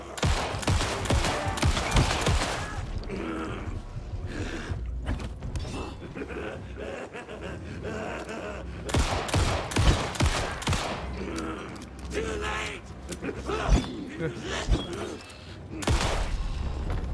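Gunfire in the video game Alan Wake 2, with rapid bursts of repeated shots, mechanical clicks and creaks between volleys, loud and close throughout and mixed with game ambience.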